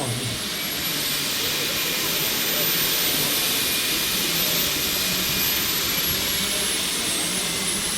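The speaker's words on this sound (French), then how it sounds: "on a une montée en régime du réacteur et au dernier moment, vous entendez le bruit grave de la sustentation qui démarre" An Aerotrain model jet engine spooling up at an outdoor charity event stand, a loud steady roar filling the whole stretch, with the low rumble of the lift system coming in near the end.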